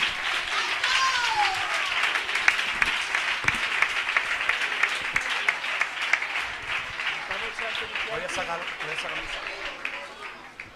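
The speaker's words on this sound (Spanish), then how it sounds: "vamos a darle un aplauso a nuestro Dios" Congregation clapping at a church choir concert, loud and sustained throughout with some rhythmic claps standing out, joined by cheering voices and a whistle-like cry early on.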